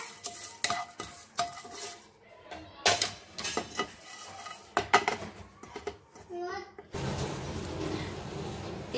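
Guntur dried chillies roasting in a pan, with a spoon scraping and clinking against the metal in irregular stirs, then a steady sizzle near the end, close and fairly loud.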